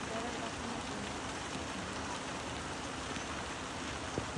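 Steady rain pours over a garden and a flooded village lane, a dense, even patter that stays close and constant throughout with no thunder.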